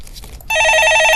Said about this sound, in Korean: 네, 전화 받아보겠습니다.